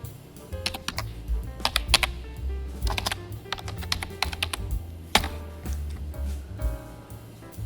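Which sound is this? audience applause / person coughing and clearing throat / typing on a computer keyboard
typing on a computer keyboard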